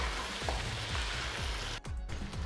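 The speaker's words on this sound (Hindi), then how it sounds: "अब हमने 2 से 3 मिनट इसको भी अच्छे से भून लेना है" Garlic and ginger paste frying in a pan for degi-style white pulao, a steady close sizzle running throughout with a few soft clinks of stirring and a brief dip near the end.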